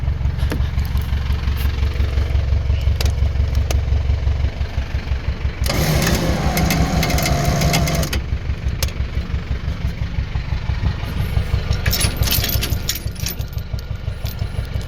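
A Nissan Big-M pickup truck's engine runs steadily at idle throughout, close by, with a brief louder rev or burst in the middle before settling back to a steady idle.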